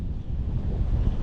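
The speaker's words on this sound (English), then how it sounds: "So windy." Strong wind buffets the microphone on open water beside a boat fitted with an electric outboard motor, a loud, steady low rumble of gusts with no voices.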